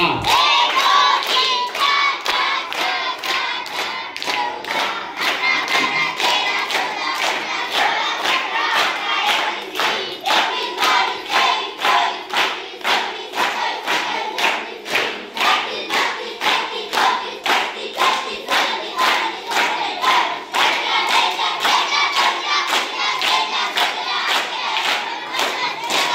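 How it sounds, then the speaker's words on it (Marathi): A group at a home birthday celebration claps in steady, even rhythm for a long stretch, each clap sharp and close, with many voices chanting or shouting along throughout. "हा आता आपण 51 टाळ्या वाजून शुभेच्छा देऊ."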